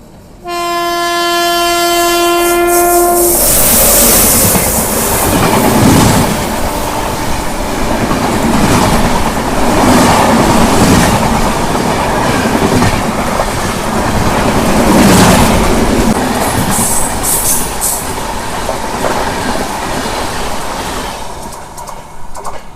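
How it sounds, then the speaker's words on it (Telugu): The Visakhapatnam–Lingampalli Janmabhoomi Express sounds its horn loudly at the start, then the long train rumbles and clatters past close by, wheels clacking steadily until it fades. "సో మన ఎదురుగా చూసుకుంటే విశాఖపట్నం లింగంపల్లి జన్మభూమి ఎక్స్ప్రెస్ ట్రైన్ అయితే వస్తుంది."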